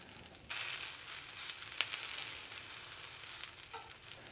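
Broccoli rabe charring in a hot pan gives a steady, fairly soft sizzle that swells after a moment, with a faint clink partway through and light stirring sounds near the end, no voices.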